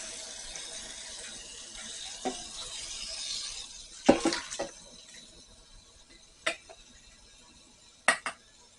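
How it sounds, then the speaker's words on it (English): Water runs from a kitchen tap in a steady broadband wash while a bowl is rinsed under it, with a few sharp clinks and knocks of crockery scattered on top. No one speaks. "Rinse our bowl."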